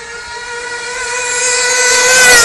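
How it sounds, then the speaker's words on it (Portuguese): A tuned Jato 3.3 car engine holds a steady, loud tonal drone with strong harmonic bands, swelling gradually louder as it revs up close by, with no one talking. "Caralho, cara, o ronco é muito massa"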